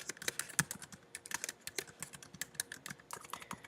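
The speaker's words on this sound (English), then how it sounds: "you're going to start typing your sentences" Rapid typing on a computer keyboard, a steady stream of close, crisp key clicks with irregular rhythm, heard alone without talk.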